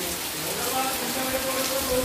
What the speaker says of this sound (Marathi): सतत 3 दिवस मरणाचा पाऊस आहे